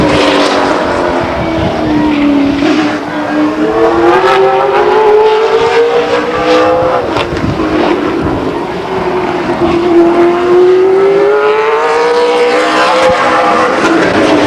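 Race car at Stockton 99 Speedway, an SRL oval event: a loud, close engine whose pitch rises and falls in long sweeps as it laps, revving through the turns and accelerating down the straights.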